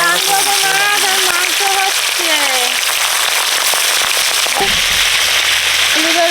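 Gangbogo fish dropped into hot oil sizzles and crackles loudly and steadily, a bright continuous frying hiss with sputtering pops throughout, while a voice talks over it.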